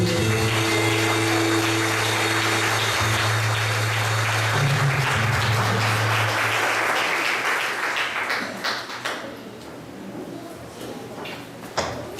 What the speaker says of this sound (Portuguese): Dê uma salva de palmas, Jesus.